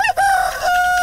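A single near cock-a-doodle-doo from a rooster, with a short broken opening followed by a long, steady held tone, loud and alone.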